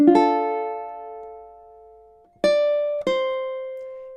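Ukulele strumming measure 4 of a song, one long ringing chord that fades over two seconds, then two sharp strums that ring out, played alone.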